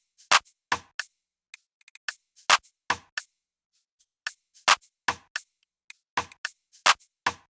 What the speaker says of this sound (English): So with that I added a rim shot and a normal clap